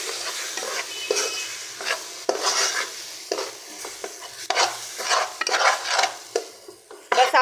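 Gram flour being stirred and roasted with milk in a pan for besan halwa, with repeated scraping strokes of a spoon against the pan over a soft sizzle, close and fairly loud.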